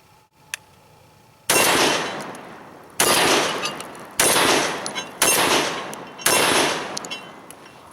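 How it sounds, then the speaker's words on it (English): A Remington 11-87 Police semi-automatic shotgun fires 12 gauge loads outdoors, five loud, sharp blasts spaced about a second apart, each trailing off in a short echo. "We're shooting 12 gauge loads."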